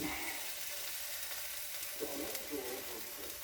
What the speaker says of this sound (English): Let's cook some bacon.